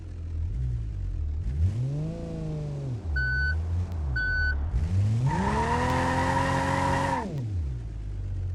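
A bus in BeamNG held at full throttle and full brake, its engine droning and revving in rising and falling sweeps with tire squeal, plus two short warning beeps, loud and continuous.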